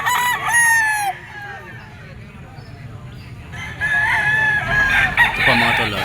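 Roosters for sale at a pet market crow loudly and close, one long crow at the start and another near the end, with clucking and market bustle in between.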